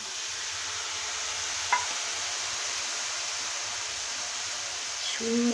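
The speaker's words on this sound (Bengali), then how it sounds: "আমি এটার ভিতরে এখন সর্ষেটা আমি ম্যারিনেট করে নিয়ে রেখেছি, এটা এখন দিয়ে দেবো, সর্ষে বাটাটা" Mustard paste sizzling among frying spices in a pan, a steady broad hiss with a couple of faint utensil taps and a louder stir near the end.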